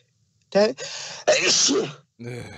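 A loud, exaggerated voiced sneeze with a drawn-out build-up and a sharp burst, followed by a short vocal sound.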